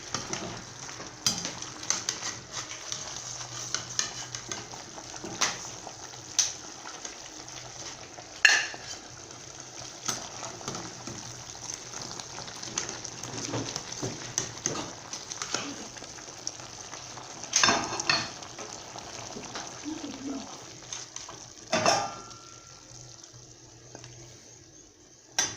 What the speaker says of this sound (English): The meat is well cooked, and so I'm going to remove it and then start frying.